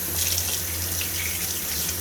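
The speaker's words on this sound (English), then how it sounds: "wash my hands off real quick" Tap water runs steadily into a sink while hands are washed, a close, continuous splashing gush with no talking.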